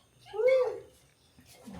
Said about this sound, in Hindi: ओए, ओए, छोटी सी बिल्ली।